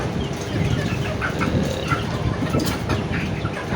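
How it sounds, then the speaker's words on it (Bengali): Caged chickens at a poultry farm make a dense, steady barnyard din of overlapping clucks and squawks, fairly loud throughout with no clear single calls standing out. "তো এই হলো আমার সেই খাঁচার ভিতরে মুরগিগুলো"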